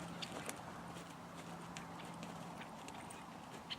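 A horse walks in a circle during Spanish walk training, hooves clip-clopping faintly and steadily against a low constant hum.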